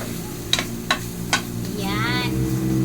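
Onion goes into a hot pan for adobong monggo, with three sharp clacks of a utensil followed by a rising steady sizzle, close and clear.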